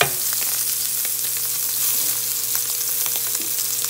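Scallops sear in a very hot pan with a loud, continuous crackling sizzle, dense hissing dotted with tiny pops, steady throughout and heard close with no talking.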